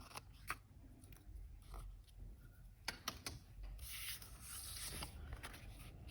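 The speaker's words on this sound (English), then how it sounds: "All right, now I can trim off the extra." Paper being trimmed from a stamped greeting card, with several sharp, brief cutting strokes and a longer rasping slide near the end. Close, quiet and without talk.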